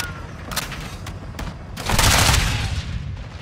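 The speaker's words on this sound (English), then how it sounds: "I shot the gas canister right in front of me" Gunfire in Modern Warfare 2 strikes a gas canister: several sharp shots crack in quick succession, then a loud, roaring burst swells and lingers for about a second before fading into rumbling background noise.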